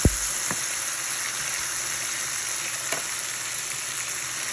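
A T-bone steak sears in a pan on the stove, a constant loud hiss and crackle of hot fat, with a sharp knock at the start and a faint clink midway.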